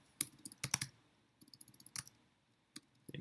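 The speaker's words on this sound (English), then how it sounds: "Doing a very good job typing today." Quiet typing on a computer keyboard during a coding lecture, with irregular bursts of crisp key clicks and short pauses, close and alone with no talking.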